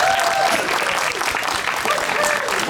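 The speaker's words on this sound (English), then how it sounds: "Big round of applause for Blue." A crowd at an ABUNAI 2022 convention show claps and cheers steadily, the applause dense and continuous, with whistles and voices mixed in.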